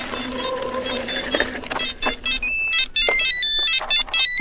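A mobile phone rings during a mountain bike ride in the Alps, a bright repeating ringtone with choppy gaps as it is handled, over faint rolling and wind noise.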